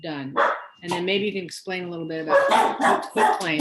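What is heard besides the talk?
dogs barking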